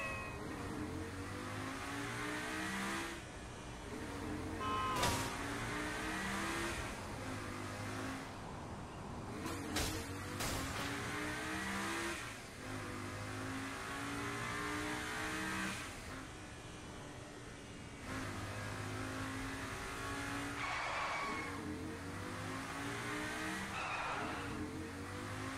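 Video game car driving in Saints Row The Third, engine revving and shifting steadily throughout with repeated tire squeals, skids and a couple of sharp impact bangs, loud and continuous with no talk.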